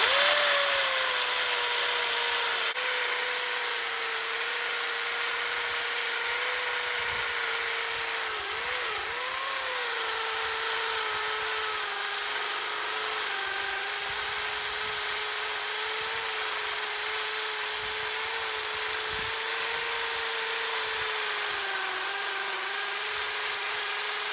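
A power drill bores holes for termite treatment, its bit running hot: one long, unbroken high whine at close range with only slight dips in pitch, and no talk over it.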